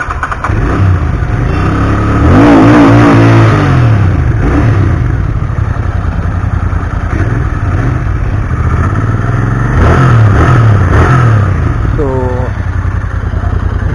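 A Royal Enfield Interceptor 650 twin-cylinder engine with dual aftermarket exhaust idles steadily up close, giving a continuous loud rumble with a couple of slight swells.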